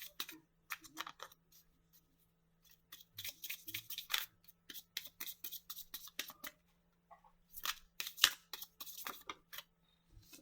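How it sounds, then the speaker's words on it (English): Tarot cards are laid out on a table in quick light taps and soft slides that come in scattered clusters, faint and close, over a low steady hum. "I'm gonna lay all the cards out first and then flip them"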